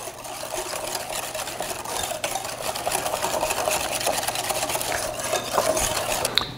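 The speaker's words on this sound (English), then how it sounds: "add the egg and egg yolk and whisk that into a homogeneous mixture" Egg and egg yolk are whisked into oatmeal cookie batter in a bowl, a continuous rapid rattling and scraping close by that grows slightly louder; no voices.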